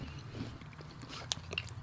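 A crunchy bite into a dill-pickle-flavored snack seasoned with Frank's hot sauce gives one sharp crisp crack close to the mic, followed by a few smaller crunches over a low background hum.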